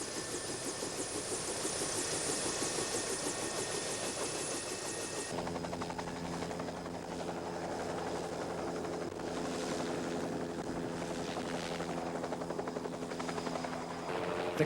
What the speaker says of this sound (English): The convoy of 4 helicopters flies toward the mountain.